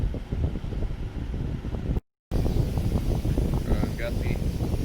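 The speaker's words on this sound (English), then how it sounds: "you just have to put up with the fan noise" A small electric fan cooling a camera in a workshop during suspension work gives a steady, airy whoosh throughout, with someone talking over it and a brief dropout in the middle.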